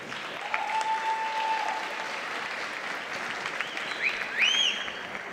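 Steady applause from an audience at a fifth-anniversary event for a local TV channel, sustained clapping at moderate distance with a whistle-like tone rising near the end and no talk over it.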